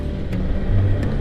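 Large trucks roll past on a rough concrete road near a factory in Purwakarta, making a dense, continuous low rumble and whir that holds steady and close throughout.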